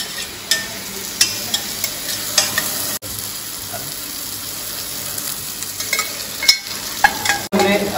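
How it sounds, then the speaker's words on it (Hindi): Leeks sauté in a pan for a leek and potato vichyssoise, a soft continuous sizzle broken by sharp scrapes and knocks of stirring, close and fairly loud. "हमने लीक ऐड कर दिया है, अब इसको भी हम लोग यहाँ पे सौते कर लेंगे"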